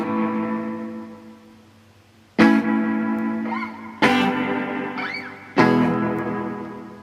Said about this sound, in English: You hear it sounds like a reverb.